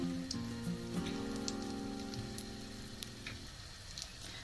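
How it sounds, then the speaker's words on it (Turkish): Crispy chicken pieces frying in hot oil, a faint, steady rain-like sizzle with light pops, beneath soft sustained musical tones that fade partway through. "Daha sonra ocakta kızdırdığımız yağın içinde kızarmak için bırakıyoruz"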